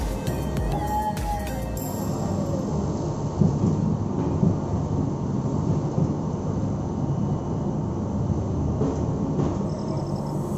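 A train running between Vizag and Araku, heard from inside as a steady, loud, rumbling roar of wheels and carriage noise that continues without a break, with a faint tonal whine early on.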